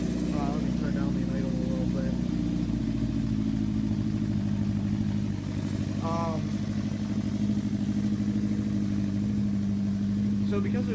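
A Honda CB350F motorcycle engine idles steadily and close by, a constant mid-pitched rumble with light mechanical clatter throughout, with faint voices underneath.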